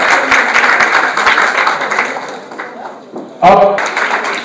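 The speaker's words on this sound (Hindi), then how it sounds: "जोरदार तालियों से अभिनंदन" Loud applause from an audience at a college prize-giving in Chhindwara fills the space as a winner is welcomed to the stage. The clapping fades briefly, then swells again near the end.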